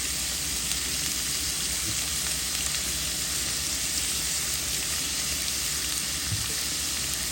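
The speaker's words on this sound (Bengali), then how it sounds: "ভাজা ভাজা হয়ে গেছে" Onion, tomato and garlic fry in hot oil with salt, giving a steady, dense sizzling hiss that runs unbroken and fairly close throughout, with no talking.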